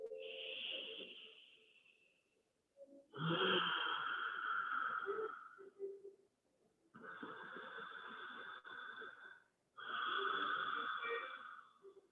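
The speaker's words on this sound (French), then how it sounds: "maybe you're engaging in Ujjayi and it's starting to sound almost like the ocean" Slow, deep ujjayi yoga breaths drawn in and out through a constricted throat, each long rasping hiss lasting a few seconds with brief pauses between.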